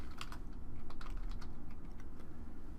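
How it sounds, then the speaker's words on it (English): Typing on a computer keyboard while an address is entered, a close, steady run of quick key clicks with no voices. "And then I'll type in the address."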